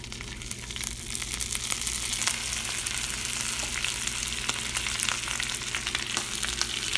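Pan-fried snapper sizzles steadily after lemon juice is poured into the hot pan, a close, even crackle with faint scattered pops throughout.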